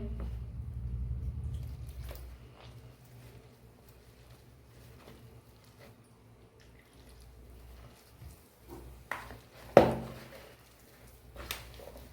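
Gram flour batter for jhuri bhaja mixed by hand with water, added a little at a time: soft, sparse wet squelches and squishes in a quiet room, growing louder toward the end with one sharper slap.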